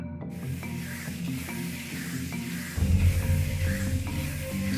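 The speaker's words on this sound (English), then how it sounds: "The frying starts earnestly." Sesame seeds are stir-fried in a pan for Huizhou Inkstick pastries, a continuous scraping, sizzling rustle that grows louder and heavier partway through.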